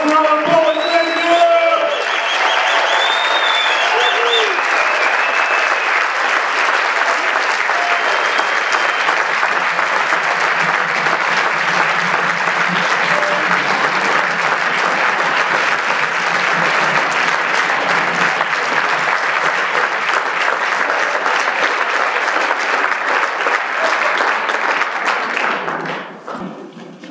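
A large audience at an urban education symposium gives the student poets long, loud applause with scattered cheers and whoops, opening over brief talk and fading out near the end.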